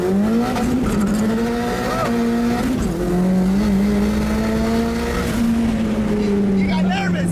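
A Mazda Miata MX-5 fitted with a Hellcat engine launches on a dyno, its engine droning loud and steady with the pitch rising and falling over several seconds and a harsh roar beneath.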